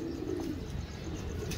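Pigeon cooing close by: soft, low, rolling coos repeat steadily against a faint background hum, with no voices.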